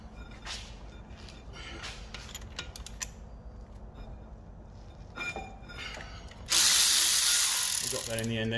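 A ratchet clicks in short bursts while undoing the 12mm brake caliper pins on an Alfa 145, followed by a louder, sustained, harsh mechanical rasp near the end.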